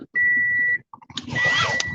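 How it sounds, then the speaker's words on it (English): A shrill electronic buzzer tone sounds steadily for about half a second, cuts out, then returns amid a burst of harsher noise, loud and close with no speech. "Rip out that buzzer."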